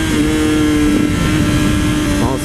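A 600cc sport motorcycle, a Honda CBR600RR or Suzuki GSX-R600, screaming loud and steady at high revs as it sits against the rev limiter, with a slight wavering in pitch toward the end.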